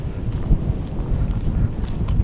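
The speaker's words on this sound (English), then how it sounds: "it's getting a little windy, huh?" Outdoor wind at a rifle shooting range, a steady low rumble buffeting the microphone with irregular gusty swells, loud and constant with no voices.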